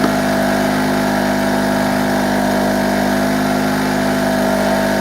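A two-stroke petrol generator engine running on old fuel, a steady loud buzzing drone with constant vibration and no pauses.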